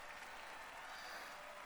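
Audience applause after a performance in the anime Carole & Tuesday, a steady, dense wash of clapping that holds throughout with no voices over it.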